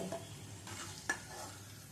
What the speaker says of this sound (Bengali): আলুগুলো সব লাল লাল করে ভেজে নেওয়া হয়ে গেছে এবারে আলুগুলো সব তুলে নেব